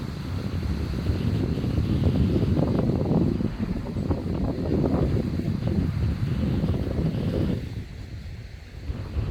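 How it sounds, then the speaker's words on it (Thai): Strong wind roars steadily against the microphone outdoors near a family of swans, a loud, continuous blustery rumble with no speech. "ลมแรงทุกคน"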